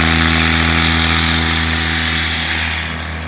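STOL light aircraft at full throttle on its takeoff run at a swamp STOL competition, a loud droning engine and propeller hum with steady harmonics that fades slightly as it pulls away.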